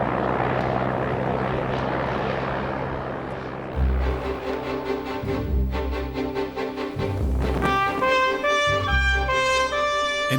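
Seaplane's propeller engine roaring as it skims across the water of Oban Bay on its takeoff run, a steady loud drone with rising, pulsing low rumble and no talk.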